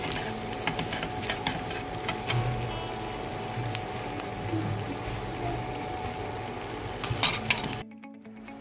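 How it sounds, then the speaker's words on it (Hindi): Potato nuggets frying in hot oil, a steady close crackle and sizzle with scattered pops that runs throughout, then cuts off abruptly near the end. "इसी तरह आप सारे नगेट्स को फ्राई कर लें।"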